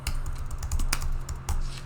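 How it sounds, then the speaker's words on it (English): Rapid clacking on a computer keyboard, a dense run of sharp key hits with a couple of harder strikes, close up over a low steady hum, with no voices. "Angry typing at my silliness."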